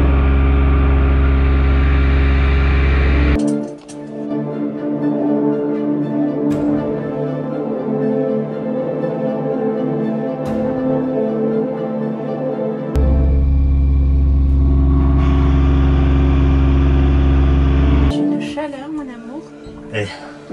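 Sailboat auxiliary engine running hot in calm conditions on the Indian Ocean, a loud steady low drone with a strong rumble that drops out briefly midway and returns, with people talking over it.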